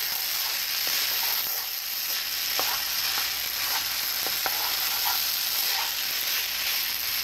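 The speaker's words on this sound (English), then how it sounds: "push your rice to the side, and then scramble your egg here, and then mix it all back together" Fried rice and scrambled egg stir-fry in a hot pan, a steady loud sizzle and hiss running throughout, with occasional scraping clicks of a utensil against the pan.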